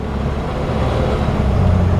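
A 1956 Jeep Willys 4x4 with a 3.8 liter Buick six-cylinder engine runs just after starting, giving a loud, close, steady low rumble with no voices.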